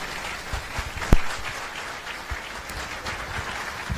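Moderate audience applause greeting a guest at a religious debate event, a soft steady patter of clapping with a few sharper claps, fairly distant.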